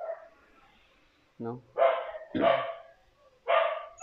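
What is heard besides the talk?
dog barking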